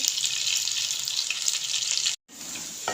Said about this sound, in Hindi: 6 से 7 मिनट के लिए हम इसे छोड़ देंगे फ्राई होने के लिए।